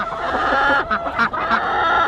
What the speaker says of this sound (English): There's the hen turkey.